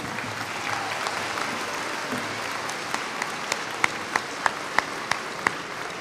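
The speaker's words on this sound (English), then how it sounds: "can we give them a round of applause?" A school audience applauds the band, choir and orchestra after a middle school performance, a broad steady wash of clapping with a few sharp, distinct claps standing out toward the end.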